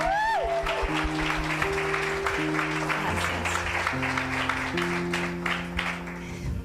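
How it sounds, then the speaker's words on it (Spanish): Church congregation applauding during a Spanish-language service, a steady wash of many hands clapping that continues throughout, with sustained keyboard chords playing underneath. "Vamos a darles un fuerte aplauso."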